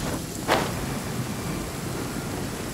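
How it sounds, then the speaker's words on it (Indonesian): Rain pours steadily in a Genshin Impact game world, with a single sharp thunder crack early on before the downpour continues as a dense, even hiss. "Waduh, hujan."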